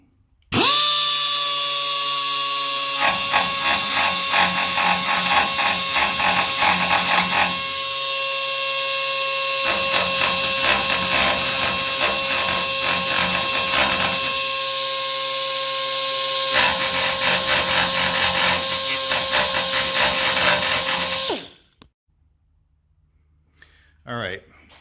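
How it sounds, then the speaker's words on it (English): A die grinder whines steadily at close range while cleaning spots on the body metal of a 1971 Camaro RS SS, its tone shifting as it bites the metal in bursts, then spinning down and stopping. "I like to use a die grinder."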